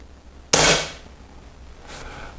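Air gun firing a diabolo pellet into ballistic gelatin, one sharp, loud crack with a short decay, then quiet room tone and a fainter thud shortly after.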